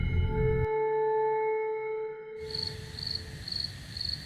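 Crickets chirping at night beside an old pond, sounding as four evenly spaced, faint, shrill pulses over a low rumble after a sustained tonal drone fades out.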